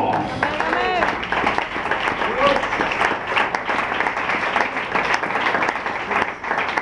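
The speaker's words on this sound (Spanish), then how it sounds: "Un aplauso, Jesús." Congregation applauding during a Spanish-language church service, dense steady clapping mixed with crowd voices and cheers throughout, fairly loud and close.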